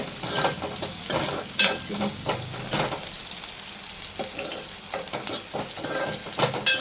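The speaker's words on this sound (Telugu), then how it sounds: "పచ్చిమిర్చి ఆనియన్స్ ఇట్లా వేగాలండి" Sliced onions and green chilies fry in a pan for an egg curry, sizzling steadily while a spoon stirs and scrapes them in quick, irregular strokes close by.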